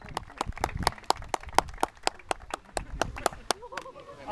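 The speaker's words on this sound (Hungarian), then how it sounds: "egy nagy tapsot neki." Scattered, sparse hand claps from a small group at a youth football tournament awards ceremony, each clap sharp and distinct in an uneven rhythm, ending with a voice.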